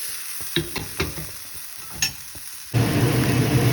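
Spicy tilapia fish drops into a hot pan and bursts into a loud, steady sizzle of frying, preceded by a few light taps and clicks of handling.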